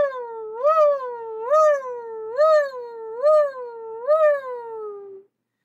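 A single voice imitates sirens high in its range, six rising-and-falling wails in steady succession, each swelling then sliding back down, fairly loud and alone with no other sound.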